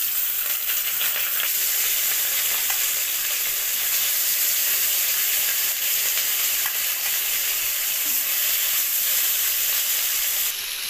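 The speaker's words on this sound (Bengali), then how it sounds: "তেলটা গরম হয়ে গেছে, এবারে একটা একটা করে মাছগুলো দিয়ে দেওয়া হচ্ছে।" Khoira fish frying in hot oil in a pan: a loud, steady sizzle and crackle of bubbling oil that holds constant with faint pops and no voices.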